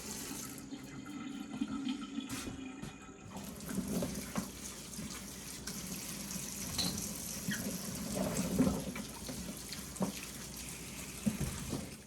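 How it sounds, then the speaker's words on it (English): Water draining from a sink after the plug is pulled, following a soak of beans being pickled, giving a steady close gurgling, trickling wash with small splashy bursts throughout. "Now let's pull that plug. Drain them things out."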